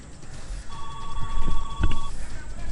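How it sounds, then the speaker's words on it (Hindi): A telephone rings with an incoming call, a steady electronic tone sustained for over a second over a busy, noisy background, fairly loud and near. "फोन पर एक कॉल आई"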